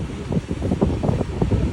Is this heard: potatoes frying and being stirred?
no